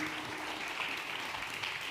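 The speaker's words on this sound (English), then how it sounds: "a big hand of applause for both Minister Chapman, Administrador Vás" Steady applause from a crowd, many hands clapping together in a continuous wash, heard from a little distance with no talking.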